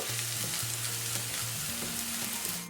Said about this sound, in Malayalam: ഇനി ഇതിലേക്ക് 1 ടീസ്പൂൺ ചതച്ച മുളക് ചേർക്കാം. നന്നായിട്ടൊന്ന് വഴറ്റിയെടുക്കാം.